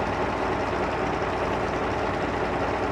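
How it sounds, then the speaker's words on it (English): A Chieftain tank engine drones steadily and loudly at close range, a continuous low rumble with no pauses or speech. "Listen to that engine."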